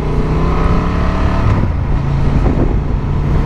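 A Honda XL750 Transalp motorcycle engine drones loudly and steadily while riding, a constant close-up roar with wind noise and a slight shift in tone partway through.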